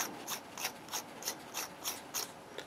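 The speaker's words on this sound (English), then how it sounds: "And when you unscrew this, it telescopes out." A Smoktech Magneto atomizer being unscrewed and telescoped out, giving a steady run of small, evenly spaced ratcheting clicks up close, about eight of them, with no talking.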